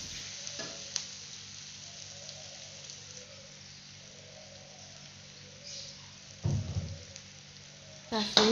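Onions sautéing in a pan at breakfast time make a faint, steady sizzle with occasional light stirring scrapes and a couple of louder clatters near the end.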